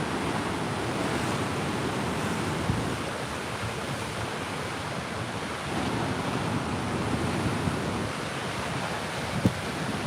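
Ocean surf along the Northern California coast on a sunny day rolls in a soft, continuous wash with faint wind noise, distant and fairly quiet, with no voices.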